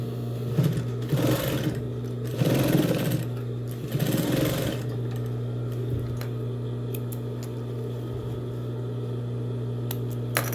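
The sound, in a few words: sewing machine stitching fabric, with backstitch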